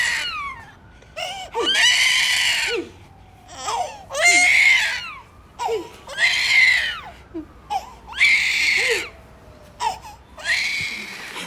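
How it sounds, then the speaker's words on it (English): A baby screams loudly and close by in repeated wailing bursts, roughly six cries with short breathy pauses between them. "The baby is screaming"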